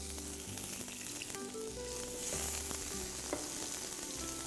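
Food sizzles and crackles steadily in hot oil in a pan while spaghetti is being prepared, with continuous close frying hiss and occasional small pops, no voices.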